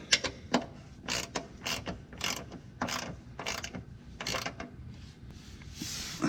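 A socket ratchet tightens the bolts of factory running boards on a 2019-2021 Ford Ranger. Nine or ten quick clicking bursts come in an uneven rhythm, close and distinct, with no talking.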